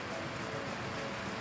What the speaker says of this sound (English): Nice steady rain for the garden there.